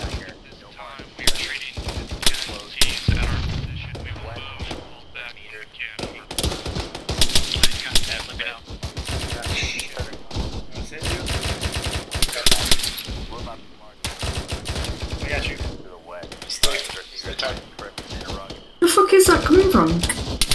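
Gunfire crackles during a military field training exercise, with sharp single shots and rapid bursts scattered near and far, broken by pauses, while soldiers talk and shout over the firing.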